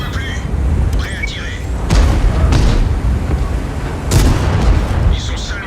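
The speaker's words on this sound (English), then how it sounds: "Cool guys don't look at explosions." Deep booming blasts and rumbling explosions from a tank video game with an EBR 90 tank, with sharp metallic hits, while someone talks over them.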